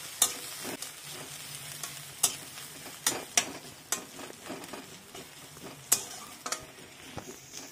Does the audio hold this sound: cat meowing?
no